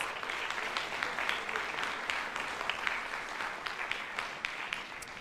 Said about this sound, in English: a round of applause for our high school Tri-M students